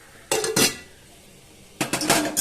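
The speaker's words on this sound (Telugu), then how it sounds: "గిన్నెలో స్పూన్ పెట్టుకో" A metal spoon is set into a bowl in a home kitchen, giving two brief clattering clinks close by, then a quiet pause before another pair of clinks.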